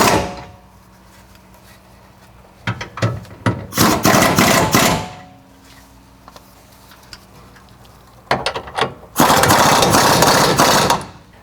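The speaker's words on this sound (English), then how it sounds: "tighten up the 3 body mount bolts" A ratchet tightens body mount bolts on a Jeep while a bumper is fitted, giving bursts of rapid clicking and louder grinding mechanical rasps separated by quieter stretches, close up with no talk.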